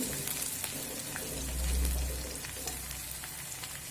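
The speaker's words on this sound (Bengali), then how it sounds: "এক থেকে দু মিনিট আমি আদাটা একটু লঙ্কার কালো জিরের সঙ্গে ভেজে নেব" Ginger fries in oil with chili and nigella seeds, a close, steady sizzle with light crackles and a brief low rumble midway through.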